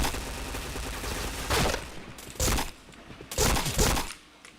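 Gunfire in a shooting video game comes as several separate loud bursts of shots spaced a second or so apart, punching through steady background game noise, with no talk over them.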